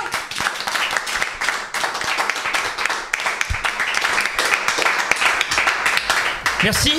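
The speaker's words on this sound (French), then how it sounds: "On applaudit, hein?" Live audience clapping after a choir performance at a Choeur du Nord concert, steady dense applause over the whole stretch with a voice speaking over it.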